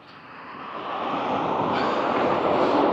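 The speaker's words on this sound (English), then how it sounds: "locomotive." A locomotive approaches near a bridge on an early morning walk, its broad rumbling roar swelling steadily louder and nearer over a few seconds.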